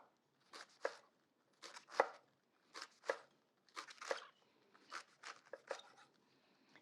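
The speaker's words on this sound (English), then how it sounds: "Just cut it into little half moons." A knife chops leeks into half moons on a board in quick clusters of crisp, close cuts with short pauses between them, quiet overall.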